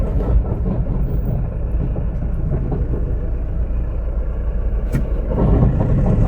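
A car pulls away from a highway toll booth in the early morning, its engine droning steadily and close by with road noise, swelling slightly toward the end; no talking.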